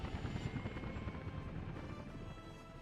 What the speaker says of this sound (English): the best thing would almost be to have multiple helicopter working